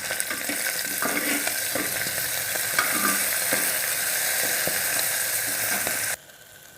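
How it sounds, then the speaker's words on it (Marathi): Green peas frying and being stirred in a pan for masala bhat, a loud continuous sizzle with scraping stir sounds and occasional clicks, cutting off abruptly near the end. "वाटाणे आता आपले चांगले परतून झाले।"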